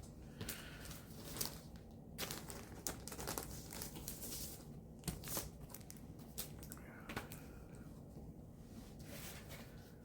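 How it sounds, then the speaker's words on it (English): A vinyl record is slid back into its plastic sleeve, giving faint, close crinkling and rustling in short, uneven bursts. "As I get this back in its plastic sleeve."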